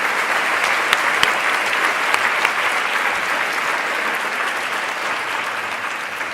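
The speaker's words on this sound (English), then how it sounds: "So if we'd like to give them a round of applause" Audience applause fills the room at an annual meeting and Family Connects launch: dense, steady clapping from a large crowd that runs the whole stretch at even loudness, with no talking over it.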